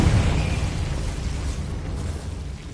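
The Confringo spell in the video game Hogwarts Legacy sets off a loud, rumbling explosion that hits hard at the start and rolls on as a dense, steadily fading roar.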